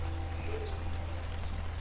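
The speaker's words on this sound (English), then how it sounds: "It's starting to rain." Rain begins falling outdoors in a garden, a faint soft patter spread evenly over a low steady hum, with no voices.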